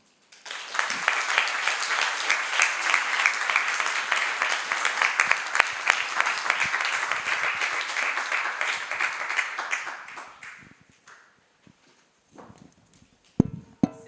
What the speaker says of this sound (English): a big applause for this organization